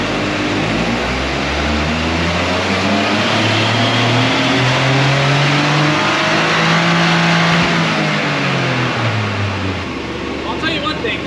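A 2023 Toyota GR Corolla on a dyno with a 30-70 torque split, its engine climbing through a long, loud rev sweep and dropping back at the end, with people talking over it.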